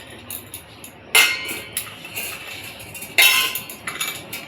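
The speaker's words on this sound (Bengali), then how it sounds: "বাটাটাকে যে ধুয়ে নিব একটু।" Someone washing a stone grinding slab (bata) in a kitchen, with sharp hard clinks and knocks of stone and metal, two louder scraping clatters among scattered lighter taps, faint water and room noise beneath.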